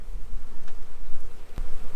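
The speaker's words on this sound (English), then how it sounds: "The remaining worker bees on the outside of the nuke don't seem to be heading into the hive" Dense, continuous buzzing of a honeybee swarm at a zoo, bees clustered outside a nucleus hive, loud and close, with a few brief bumps and knocks near the end.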